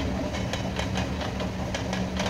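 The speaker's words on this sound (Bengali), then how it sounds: "আর ট্রেনটা দেখুন, কত ভিড় দেখুন।" A crowded suburban passenger train rumbling past near Nalasopara station, a loud continuous low roar with regular clacking from the wheels over the rail joints.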